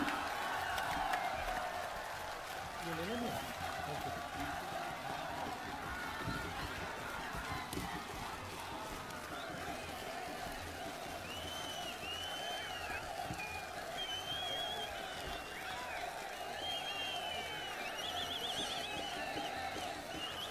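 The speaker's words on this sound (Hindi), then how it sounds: "राहुल गांधी जी को खड़ा होकर तालियों से स्वागत करें" A large outdoor crowd at a political rally in Anantnag, Jammu and Kashmir claps and cheers steadily throughout, a dense wash of applause and crowd noise with whistles rising near the end.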